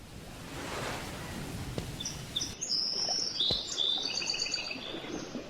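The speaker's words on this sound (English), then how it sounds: "All of a sudden, the birds are out and it's beautiful again." Birds chirp in an 18th-century sailboat simulator game as calm returns after a storm. Bright tweets repeat over a soft wash of wind and sea noise.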